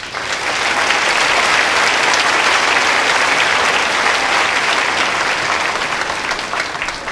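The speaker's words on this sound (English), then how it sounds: "One more round of applause for our students." An audience applauding students at an eighth grade promotion ceremony, a broad, loud wash of clapping from a large crowd that builds quickly, holds steady for several seconds and eases slightly near the end.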